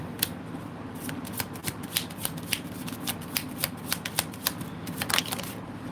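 Tarot cards shuffled and dealt by hand, a run of crisp, quick riffles and flicks at close range in a quiet room, with faint murmuring in the background.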